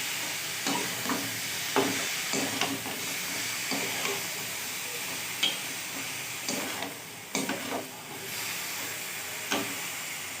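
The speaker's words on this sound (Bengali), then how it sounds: "দিয়ে এবার এটাকে নাড়বো, একটু কষিয়ে নিয়ে" A salted masala being stirred and sautéed in a pan ahead of adding a hilsa fish head, heard as a soft steady sizzle with occasional spatula knocks and scrapes at an unhurried pace, fairly quiet and with no speech.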